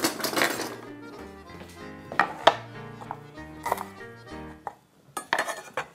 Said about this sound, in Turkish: Naneleri doğrayayım